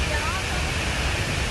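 Steady, dense roar of the La Fortuna waterfall in Costa Rica, a loud broadband rush filling the whole moment without a break.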